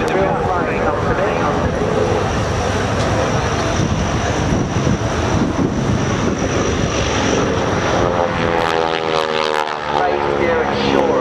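A North American T-6G Texan, a World War II-era propeller trainer, flies a display at Shoreham, its radial engine droning loudly and steadily throughout with wind buffeting the microphone and a rising, shifting tone near the end.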